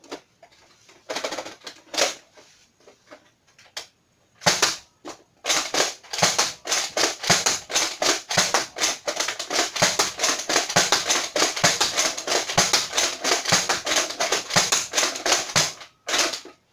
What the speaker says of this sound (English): Now, I'm going to do the crossbow. Shooting 10 random darts.